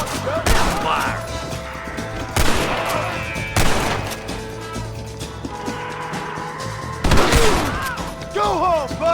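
Gunfire in Red Dead Redemption comes as several loud sharp bursts spaced a couple of seconds apart, each cracking out with a ringing tail. Voices call out between the shots.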